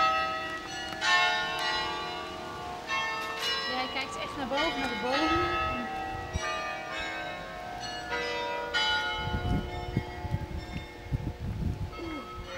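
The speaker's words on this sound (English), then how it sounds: "Listen to the bells." Bells ring out steadily in the distance with layered, ringing tones, while people talk nearby over outdoor street noise.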